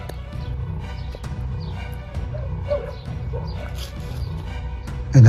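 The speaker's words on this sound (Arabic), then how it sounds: "ايه ده بقى؟ صوت كلاب." Dogs barking in a video game, a string of sharp yips and barks at mid distance over a steady low rumble and game ambience, with a louder burst at the end.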